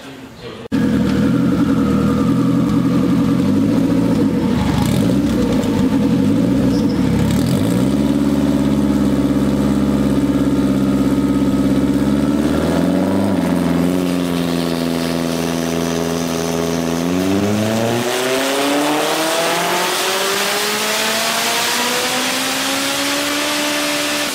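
Honda K20-powered MR2 on a dyno, engine held at a steady loud drone, then revving higher with rising pitch through a long sustained pull near the end.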